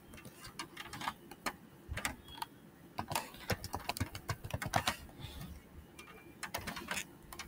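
Code being typed on a computer keyboard, with quick irregular bursts of clicking keystrokes and short pauses between runs, close and fairly quiet with no talking.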